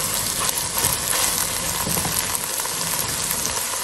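Chicken sizzles steadily in a hot pan, a dense continuous frying hiss with crackle throughout, loud and close with no talking.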